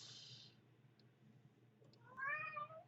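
A cat gives a single short meow near the end, moderately faint over a low steady background hum, with a brief high hiss at the start.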